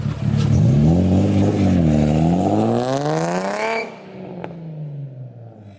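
A Nissan 350Z with an open differential revs hard as one wheel spins, its engine tone sweeping up over several seconds to a high whine before cutting off abruptly, leaving a short sharp clatter and fading rumble.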